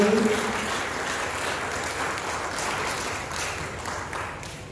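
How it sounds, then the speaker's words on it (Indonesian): An audience at a maritime safety outreach event with Indonesia's transport minister gives a round of applause, dense steady clapping that holds for several seconds and fades slightly at the end. "Kita beri tepuk sekali lagi."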